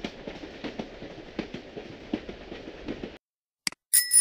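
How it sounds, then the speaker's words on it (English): At a train station, a passing train gives a quiet, even rhythmic clatter of wheels over rail joints, then cuts to silence before a few brief sharp sounds. "Aha! The train station!"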